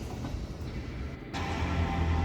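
A CSX local freight train, the L301 on the Grand Rapids subdivision, rumbles past nearby with a steady loud roar of wheels and rail noise that grows slightly heavier toward the end.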